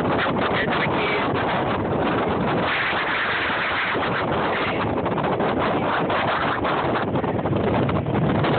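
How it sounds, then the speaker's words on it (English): Strong wind roars and buffets against the microphone on a bridge in the aftermath of a hurricane, a loud, continuous rushing blast with no letup. "The wind is blowing in my face."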